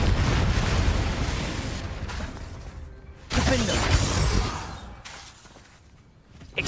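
Blasting-spell explosions in Hogwarts Legacy burst loudly, one fading rumble followed by a second sharp blast around midway, then trailing off into quieter debris before another hit at the end.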